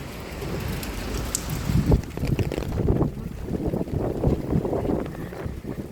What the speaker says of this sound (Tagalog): Lakas kasi yung hangin.